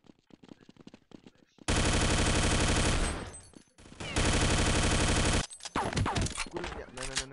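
Bursts of rapid automatic gunfire in the video game Counter-Strike, loud and sustained for a couple of seconds each, separated by a brief pause and followed by scattered single shots.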